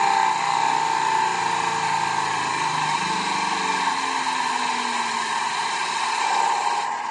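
Wood lathe spinning a bowl blank at 2500 RPM, a loud, steady high-pitched motor whine that holds constant throughout with only a slight shift midway.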